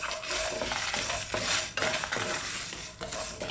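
Fenugreek and cumin seeds heating in a pan for Udupi sambar, with a steady sizzle and faint scraping of a spoon, close and continuous with no speech.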